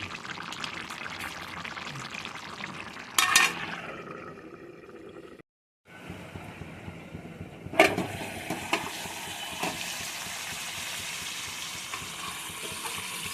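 Ridge gourd with dried prawns cooks down in a pan with a soft, continuous sizzle, broken by a couple of sharp clatters and a short silent gap.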